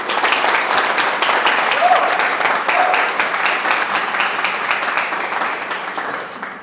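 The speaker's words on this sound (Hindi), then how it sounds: "एक जोरदार तालियों के साथ" Loud, steady applause from a large audience fills an indoor hall at an RRB JE 2024 rankers' conclave celebration, dense clapping sustained for several seconds before fading slightly at the end.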